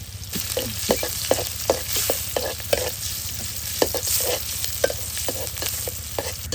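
Onions and garlic fry in hot oil for a Sundarbans fish dish, a loud close sizzle punctuated by rhythmic spatula scrapes and knocks against the pan.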